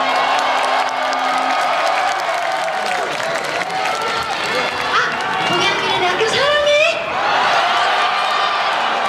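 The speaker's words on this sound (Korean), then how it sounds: "다시 한 번 더 큰 박수 부탁드리겠습니다" A big festival crowd at Dongyang Mirae University's Nodeul Festival applauds and cheers steadily after a concert set, with whoops rising above the sustained clapping and chatter.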